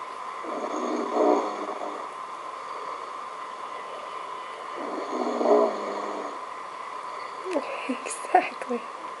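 A sleeping person snoring in slow, rhythmic breaths, with two broad swelling snores spaced several seconds apart and a few rougher snorts near the end, moderately close over steady background hiss.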